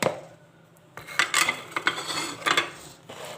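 A spoon stirring and clinking against a bowl while spices for hawawshi are mixed together, heard as several short scraping taps and knocks in a quiet kitchen.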